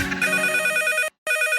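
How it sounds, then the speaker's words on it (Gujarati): A telephone rings in a radio comedy sketch: a loud, close, electronic trilling ring that repeats, then breaks for a moment of silence and starts again. "એ ફોન આવ્યો કાકા."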